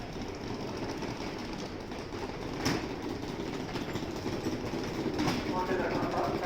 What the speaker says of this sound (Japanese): 電車到着します。